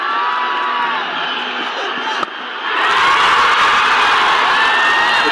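Cricket stadium crowd at a Nepal versus Oman match erupting into a huge roar and cheers for a six, an already loud crowd swelling suddenly into a dense, sustained wall of shouting and whooping.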